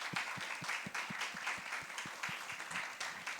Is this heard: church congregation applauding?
yes